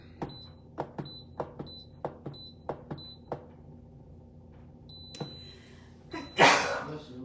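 A sudden, loud sneeze near the end, preceded by a string of short, evenly spaced clicks with a bright ringing tone.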